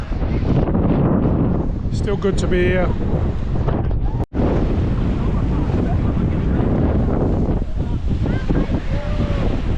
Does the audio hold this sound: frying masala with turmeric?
no